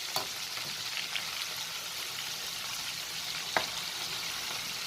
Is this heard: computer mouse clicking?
no